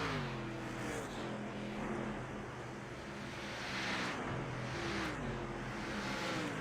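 A racing kart in an Arca series race at Charlotte roars past a wall-mounted camera, its engine note rising and falling as it sweeps by, over steady track noise and wind.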